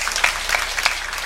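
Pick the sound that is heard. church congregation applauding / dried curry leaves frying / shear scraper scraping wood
church congregation applauding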